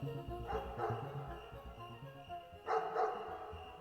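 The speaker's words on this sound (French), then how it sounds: "Pendant qu'il hésite, ses chiens l'ont aperçu. Et d'abord Mélampus et le sagace Harpalos l'ont signalé en aboyant." Hunting dogs bark in an audio drama, two bursts of moderately loud barking over a steady dense background, spaced a couple of seconds apart.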